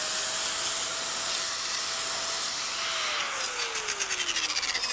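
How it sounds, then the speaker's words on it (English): A Porter Cable angle grinder whines at a steady high pitch, then its tone drops and turns unsteady and pulsing near the end, as if failing, during work on a wooden rocking horse. "I've ruined yet another grinder."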